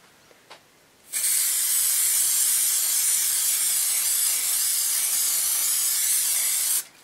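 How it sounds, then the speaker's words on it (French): Hairspray used as a fixative hisses from an aerosol can onto a dry pastel drawing in one steady, close burst of about six seconds, after a brief faint tap. "si vous n'avez pas de spray fixatif pour pastel ou fusain, vous pouvez utiliser un spray pour les cheveux"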